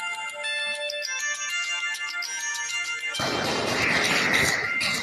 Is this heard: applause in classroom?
no